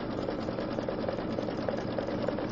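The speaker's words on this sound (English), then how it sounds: "It's doing a little triple stitch in the center there." A sewing machine running a triple stitch on the center of a Celtic circle design, a steady close mechanical whir with fast rhythmic needle chatter throughout.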